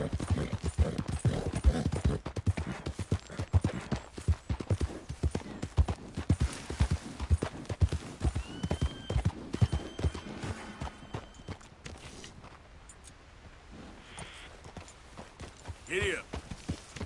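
Horse hooves clip-clop at a steady trotting rhythm in Red Dead Redemption 2, loud and close, with an occasional neigh and a rider urging the horse on, fading toward the end.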